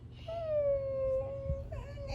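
A person mimics a baby crying with one drawn-out, wavering wail that dips, then a short second whimper, close and fairly quiet.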